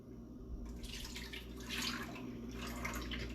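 Two cups of coconut milk pour steadily from a container while a Jamaican dessert is cooked live, a soft continuous liquid splash over a low background hum.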